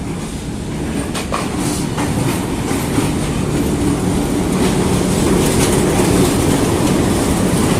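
The Sir Syed Express passenger train arrives at Rawalpindi railway station, rumbling past loudly with steady rolling wheel noise and faint clickety-clack, a continuous heavy drone close by.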